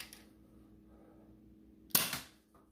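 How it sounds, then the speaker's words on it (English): A single sharp shot from an X-Shot micro foam dart blaster firing a waffle head dart, one close, brief pop with a short fading tail after a quiet lead-in. "We're going to shoot some waffle head tips out of it"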